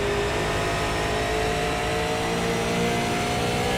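Super Late Model race car engine in the iRacing video game at Richmond Raceway, a steady loud whining drone with sustained engine tones and no talk, held at high revs throughout.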